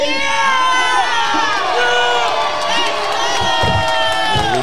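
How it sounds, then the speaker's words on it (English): A dense crowd at a boxing match cheers and shouts loudly and continuously, with overlapping whoops and high excited voices rising and falling throughout, plus a few thumps near the end. "You hear the crowd. You hear it."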